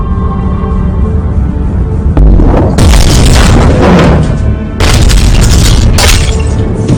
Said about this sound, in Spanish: Tras una primera oleada de cargas de profundidad que sacuden el submarino